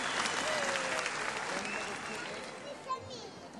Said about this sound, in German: Nochmal Applaus für Herrn Ahmad Rahmani.